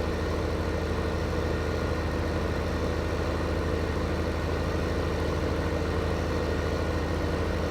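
A tractor engine runs in the farming game Farming Simulator 15, a steady, even idling drone with a constant low rumble that goes on without change or speech.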